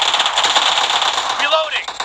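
An Uzi submachine gun fires a fast, steady automatic burst in a video game, loud and close, while a voice talks over it.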